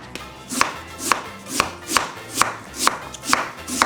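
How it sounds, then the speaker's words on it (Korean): Kitchen knife slicing a Korean radish into thick pieces on a cutting board, a steady series of close, crisp chops about twice per second, each a sharp knock against the board. "이 상태에서 내가 원하는 무나물의 두께로 썰어주세요"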